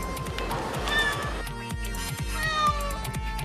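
A house cat meows insistently several times in a row, calling out loudly and close by, over some faint background sound.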